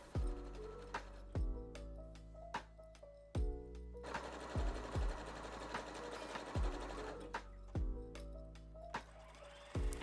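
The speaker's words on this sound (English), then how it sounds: "I also ended up sewing the bottom of the shirt and the neckline" Sewing machine stitching a shirt hem and neckline, rapid mechanical whirring bursts that start and stop repeatedly with a clacking rhythm, close and clear with no voices.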